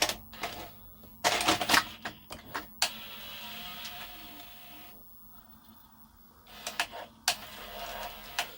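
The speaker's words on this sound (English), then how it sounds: "So there still is some hesitancy with lacing by the looks of it." A Philips Matchline VR6860 VCR, hesitating as it laces a tape to play, gives off clustered mechanical clicks and clatters in bursts, with a whirring stretch and near-silent gaps between.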